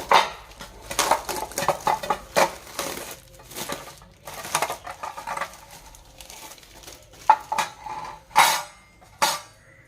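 Metallic clinks, clanks and crinkling rattles come in irregular bursts close by, like a metal pan being handled and unwrapped.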